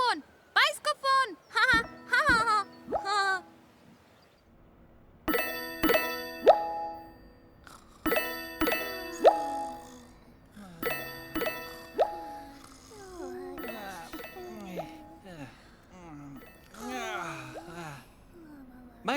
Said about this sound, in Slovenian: Potem je Lili slišala zvonjenje. Bil je bajskofon.